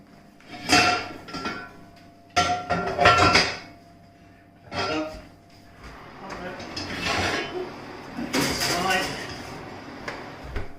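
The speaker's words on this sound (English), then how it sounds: "now quickly, carefully pop that onto the hot pan. Now with the oven gloves." A sourdough loaf from a banneton is set onto a hot pan with oven gloves, giving several loud, close clattering and scraping bursts of metal cookware and oven handling, with pauses between them and a voice talking over parts of it.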